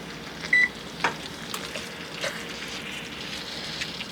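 A kitchen oven's control panel gives a short electronic beep while being set to preheat to 375, followed by faint clicks and light clatter against soft background hiss, no voices.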